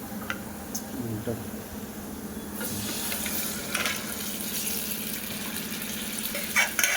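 Chopped onion sizzles and is stirred in a pan while browning for a village-style crab curry, a steady frying hiss with occasional scraping, heard up close.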